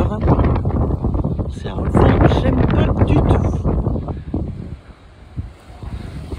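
Strong wind gusts buffet the microphone outdoors near a camper van, a loud, rough rushing roar that swells and eases, with people talking under it.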